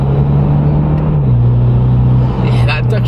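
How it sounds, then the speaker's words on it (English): Mitsubishi Evo X FQ300 SST, a 2011 turbocharged car, drones loudly with steady engine tone that dips as the gearbox changes, then brief hissy bursts near the end like a blow-off valve venting pressure. "You can hear a sort of blow-off valve then kicking off as well, releasing the pressure."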